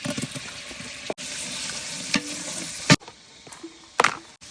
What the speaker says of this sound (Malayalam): സൺഫ്ലവർ ഓയില് ഒരു മുന്നൂറ് മില്ലി ഇട്ടോ കേട്ടോ ഒരു മുന്നൂറ് ഉള്ളി തക്കാളി